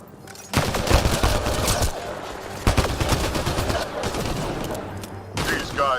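Gunfire in a shootout with pirates at a pirate hideout in the video game Mass Effect: Andromeda, with loud bursts of shots opening and again midway, dense rattling volleys running throughout.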